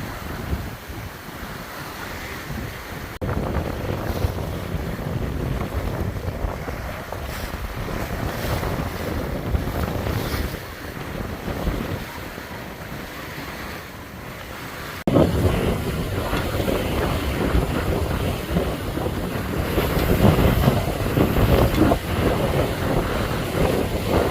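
Steady wind buffeting the microphone and waves washing along the hull of a sailboat under sail in about 13 knots of breeze, a continuous rushing roar with surges of water.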